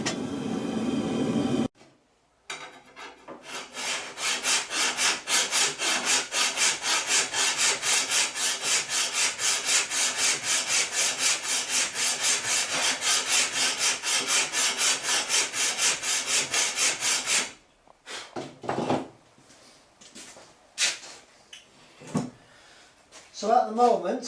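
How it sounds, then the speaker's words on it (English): Steady back-and-forth filing strokes rasp along the bevels of a katana made from truck spring steel, loud and close in an even rhythm for about fifteen seconds, with brief clatter and a voice before and after. "I'm just filing out the bevels on this here sword and this here katana"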